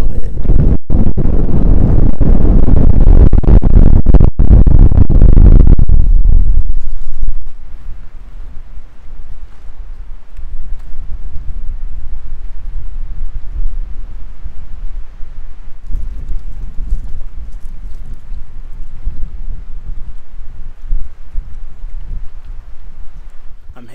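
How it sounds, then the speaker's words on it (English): Strong wind gusts buffet the microphone on a lakeside hiking trail at Smith Mountain Lake State Park as skies darken, a loud roaring blast for the first seconds, then easing to a steady lower rumble of wind. "The wind really picked up out of nowhere."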